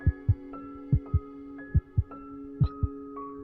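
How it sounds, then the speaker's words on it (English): Heartbeat in a video game, slowing down during a failed challenge: paired low thumps repeat at a steady, gradually widening pace over a sustained musical hum, loud and close, with no talk. "you can hear the music and the heartbeat is starting to slow down"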